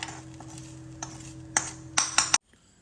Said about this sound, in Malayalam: ലോ ഫ്ലെയിമിലിട്ട് ഒരു 2-3 മിനിറ്റ് ഇതേപോലെ ഒന്ന് ഇളക്കി യോജിപ്പിച്ച് കൊടുക്കാം